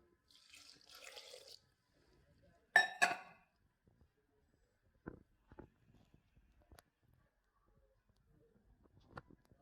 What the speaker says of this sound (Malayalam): ഇതിനകത്ത് നമുക്ക് കുറച്ച് വെള്ളം ഒഴിച്ചു കൊടുക്കാം ഒരു അര ഗ്ലാസ് വെള്ളം